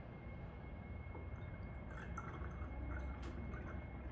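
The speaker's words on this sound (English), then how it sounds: "let's see what happens if I pour Kangen water on these cups with tap water" Kangen water is poured into cups holding tap water, giving faint, close trickling and scattered drips over a steady low background hiss, with no voices.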